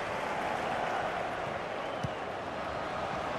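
Steady wall of crowd applause and cheering in a FIFA 18 football match, loud and continuous throughout with a single brief thump partway through.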